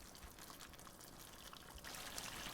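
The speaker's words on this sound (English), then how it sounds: "we just add in some water to thin down the gravy" Water is poured into a simmering mutton rogan josh gravy, a faint, steady hiss and trickle that grows slightly louder toward the end.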